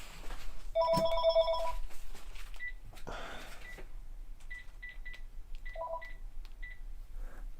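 A landline telephone in a home office rings with electronic tones and beeps, a few bursts of ringing and dial-tone chirps spread across the clip over a steady background hum, with no one speaking.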